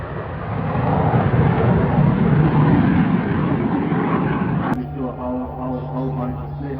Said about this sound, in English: Watch the performance of the F-15 Falcon as he rolls the aircraft.